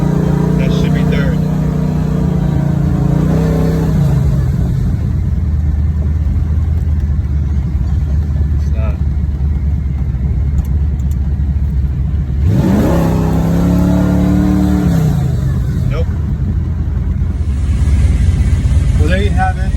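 A 1996 Chevrolet Impala SS engine revs and pulls while driving with a faulty transmission, the engine note climbing and dropping in loud sweeps, and someone talks over it.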